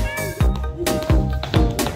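A child imitates a hungry cat with a voice, giving three drawn-out, whiny meows in quick succession, loud and close, with short pauses between them.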